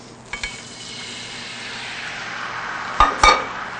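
Beef broth poured into a hot pan used for sautéed chicken, raising a steady sizzle with a couple of sharp utensil clinks early and two louder bursts near the end.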